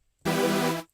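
A detuned supersaw synth patch built from two stacked saw oscillators in Vital, one pitched up an octave, sounds as a single sustained bright chord about half a second long, swelling in abruptly and fading out, with no talking.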